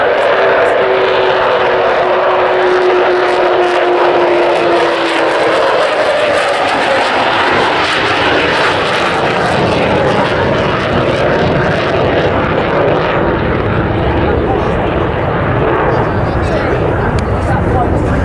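Avro Vulcan XH558 bomber roaring past at a display, its four Rolls-Royce Bristol Olympus 202 turbojets producing a loud, sustained jet rumble and broadband roar that swells and holds for the whole pass, with no talk over it.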